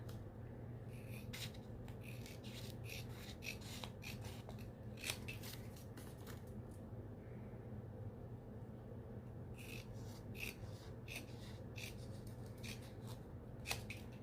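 Scissors snip and trim tape while kitting up a diamond painting, giving faint, scattered cuts over a steady low background hum.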